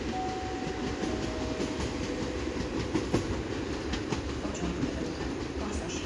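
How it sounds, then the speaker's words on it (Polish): A TLK Rozewie passenger train passes through a station in Bydgoszcz on a summer night, its steady loud rumble and rolling wheel clatter filling the whole stretch with no letup. "Oto pociąg TLK Rozewie relacji Hel Gdynia do stacji Kraków Główny i Szklarska Poręba Górna."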